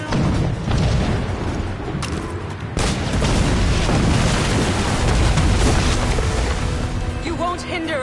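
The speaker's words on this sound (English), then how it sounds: "Grenade!" Grenade blast in the video game Assassin's Creed Rogue, a loud broadband boom that punches through a dense, windy sea-battle mix of water and boat noise, with shouted voices around it.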